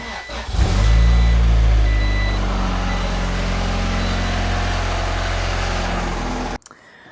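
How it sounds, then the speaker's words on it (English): A car engine turns over and catches, then settles into a loud, steady idle rumble that runs for several seconds before cutting off abruptly. "we should be good to start the car"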